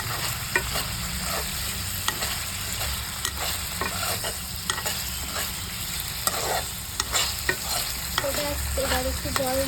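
Chhana fritters frying in a spiced masala paste with whole poppy seeds, with a steady close sizzle and repeated scraping stirs of a spoon against the pan, no voices.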